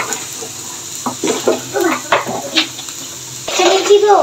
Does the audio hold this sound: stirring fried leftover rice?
yes